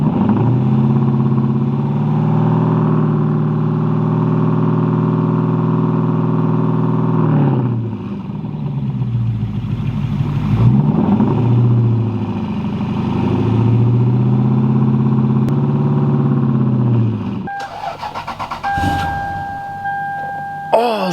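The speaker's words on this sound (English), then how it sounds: "we have to hold the RPMs a little bit higher while we let the battery charge" A Lexus LS 430 engine held at raised RPM while the battery charges, a steady loud idle drone with strong harmonics that dips and recovers a few times; near the end a person speaks and a thin electronic tone sounds.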